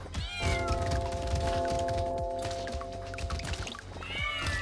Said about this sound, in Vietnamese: Meo.